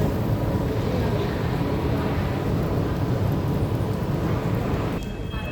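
Steady low rumble of a Singapore MRT metro train in motion, a constant loud roar with no voices, easing slightly near the end.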